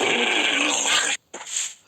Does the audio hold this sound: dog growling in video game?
yes